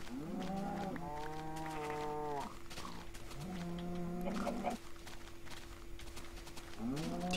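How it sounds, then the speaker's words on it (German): Many cows low in a blocky Minecraft world, with several long drawn-out moos one after another over a faint steady tone. The calls come clearly and close, without talk. "Ach du meine Güte, sind da viele Kühe jetzt auch noch."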